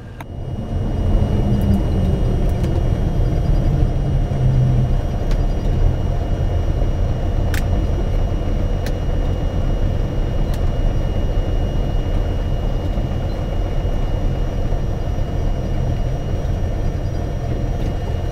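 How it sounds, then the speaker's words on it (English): A Cirrus light airplane taxis off the runway at Fort Lauderdale, heard as a steady loud engine and propeller drone with heavy low rumble from inside the cabin. The sound holds continuously with faint brief clicks. "We'll be taxiing off the runway now and heading back to the hangar."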